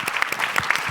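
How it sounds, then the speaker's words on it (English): An audience at a climate and health conference claps steadily, a dense patter of many hands at moderate distance with no voices over it. "a big clap for them before we move on to our next interview"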